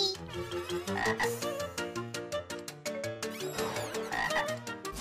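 A cartoon frog croaks in a Bengali animated show, a rhythmic run of loud, rapid croaks close up set against music, with no talking.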